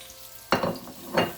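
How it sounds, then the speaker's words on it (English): Onions and aromatics sauté in butter and oil in a pan, giving a soft steady sizzle with two brief bursts of stirring or scraping, close by and without talk. "So I am just going to saute these."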